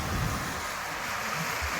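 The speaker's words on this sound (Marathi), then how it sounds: "असा पाऊस पडतो आहे" Steady broadband hiss of heavy rain pouring down in Rajapur, constant and enveloping with some wind, no voices.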